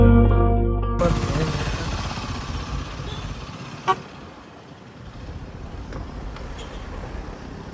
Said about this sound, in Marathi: हे पण बाईक चालून येतात मस्तपैकी.